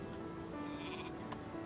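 Sheep bleat in the Northgard strategy video game, a short wavering call set against steady game music and ambient background.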